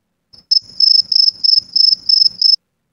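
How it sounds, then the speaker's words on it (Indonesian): AI-generated cricket chirping from a Filmora sound effect tool: six or so loud, close, evenly spaced trilling bursts in a steady rhythm, heard alone with nothing else behind. "suara sound effect jangkrik."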